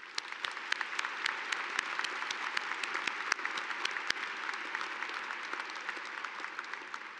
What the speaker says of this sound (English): Please join me once again to applaud and congratulate them